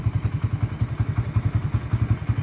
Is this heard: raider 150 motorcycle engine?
yes